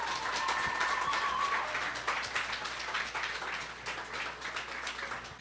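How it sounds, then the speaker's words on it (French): Audience applause welcoming a speaker at a municipal politics talk, a soft, dense patter of many hands clapping for several seconds, fading slightly toward the end. "Une bonne main d'applaudissements,"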